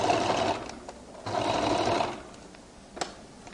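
A sewing machine stitches a flared skirt in two short bursts of rapid whirring, with a quieter pause between them and a light click near the end.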